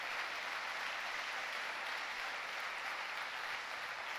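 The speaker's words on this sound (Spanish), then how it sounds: "Dale fuerte ese aplauso al Señor." Church congregation applauding during a Spanish-language sermon, a steady, even wash of clapping that holds at a moderate, somewhat distant level for several seconds with no talk.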